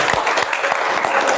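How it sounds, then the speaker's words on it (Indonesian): Classroom applause for a student group about to present, a brief burst of loud, fast clapping from a room of students, close and energetic, lasting only a moment. "tepuk tangan dulu"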